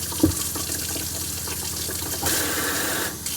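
Cold water running from a tap in a camper van, a close steady splashing stream into a sink that opens with a brief knock and then grows slightly louder, with no voices.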